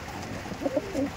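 Madras pigeons in a loft coo softly in a few short, low bursts, close by over a faint steady background.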